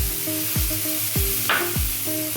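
Grated coconut going into a hot wok (kadai), with a steady close sizzle and a few scraping stirs across the short stretch, plus one sharper hiss burst midway.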